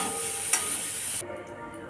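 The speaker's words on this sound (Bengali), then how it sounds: "ফুলকপিটা ভাজা হয়ে গেছে।" Cauliflower fries in oil in a pan, giving a quiet sizzle with one brief scrape. The sizzle fades partway through. No one speaks.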